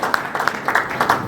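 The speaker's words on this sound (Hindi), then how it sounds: "एक जोरदार ताली हो जाए, जोरदार एकदम।" Audience clapping at an electrician award ceremony for a cable company, short scattered bursts of applause from a modest crowd, moderately loud and close.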